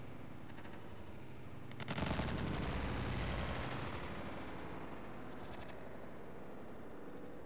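Battlefield 3 gunfire: a loud sustained burst of rapid automatic fire erupts and rattles on for a couple of seconds, followed by a shorter burst later, over a low ambient game backdrop.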